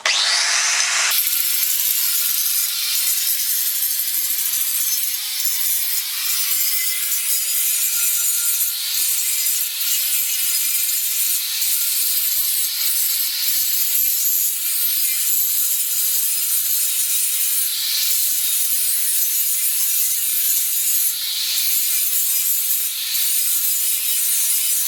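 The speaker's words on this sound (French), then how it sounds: "Je vais venir de ce côté. Mettre à ma droite pour pouvoir meuler." An angle grinder grinds down a steel butt weld made in the horizontal position with MAG welding on thick plate, giving a steady, loud, continuous abrasive hiss that starts abruptly and runs unbroken for the whole stretch with no talking.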